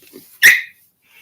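A small pet dog named Pixie lets out a single sharp, loud bark close by, preceded by a faint low whine, then quiet.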